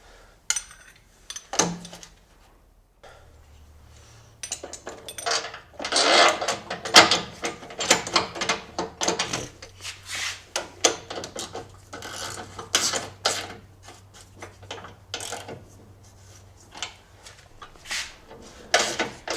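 Metal hardware clanks and rattles as a roller fairlead is bolted onto a winch, with irregular clinks, ratcheting and tool scrapes after a quiet start, close and moderately loud, alongside a low steady hum.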